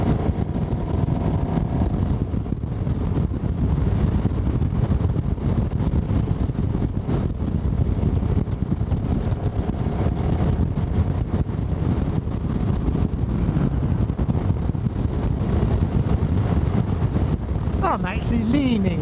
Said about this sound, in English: Yeah, pretty breezy up here.